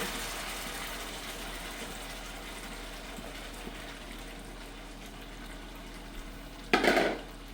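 Rice dropped into a pot on a stove at high heat, a steady low bubbling and simmering hiss, close by, with a brief louder burst of sizzling near the end.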